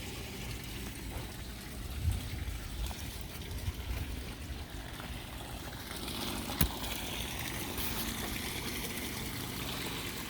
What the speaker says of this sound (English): Water comes up the tube, goes into a little filter, flows into the tub, and then out.